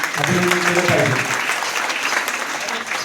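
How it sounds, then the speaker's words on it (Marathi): Audience applause at a village government outreach event: a crowd clapping steadily for a few seconds, with a voice speaking over the start and the clapping thinning toward the end. "सरांचं कृपया एकदा आपण टाळ्या वाजवून अभिनंदन केलं पाहिजे"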